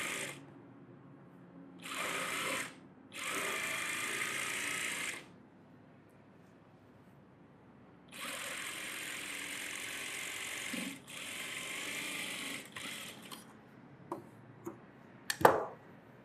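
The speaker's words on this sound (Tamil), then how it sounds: "சும்மா ரஃப்பாக ஒரு தையல் போட்டுக்கிறேன்." A sewing machine runs loose rough stitches on a net model blouse during tailoring work, in three separate bursts of steady whirring with short pauses and a few clicks and knocks toward the end.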